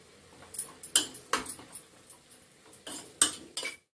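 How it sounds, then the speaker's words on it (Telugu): A spoon clinks and scrapes against a pan in about a dozen quick, close strokes as spice powders are stirred into vegetable khichdi. "ఇప్పుడు కొంచెం ధనియాల పొడి, జీలకర్ర పొడి, పసుపు, గరం మసాలా వేసుకొని కలుపుకుందాం"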